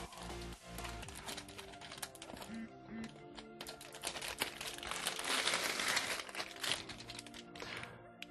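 Plastic packaging around a Tesoro Excalibur Spectrum mechanical keyboard crinkles and crackles continuously up close, with rustling and small taps swelling louder midway through before easing off, no voices over it.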